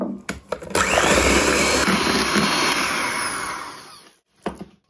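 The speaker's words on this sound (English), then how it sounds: "And whisk." An electric whisk whirs loudly and steadily for about three seconds as eggs are beaten into sponge pudding batter, with a few clicks and taps just before it starts and right after it stops.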